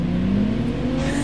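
A large vehicle's engine revs and whirs steadily in Call of Duty Mobile, a loud continuous drone running through the whole moment without talk.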